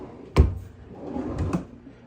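A tool storage drawer in a woodworking shop slides and thumps shut once, sharp and close, followed by a softer second rattle of the drawer.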